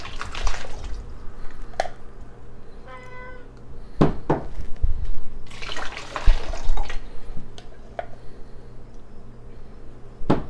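Water pours into a container holding citric acid for an aquarium CO2 system, a brief splashing burst among small clinks and handling noises, with a cat meowing nearby.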